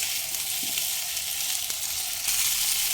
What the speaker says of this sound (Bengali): ভেজে রাখা সবজিগুলো দিয়ে দেব দিয়ে দু মিনিট আবারও কষিয়ে নেব মিডিয়াম ফ্লেমে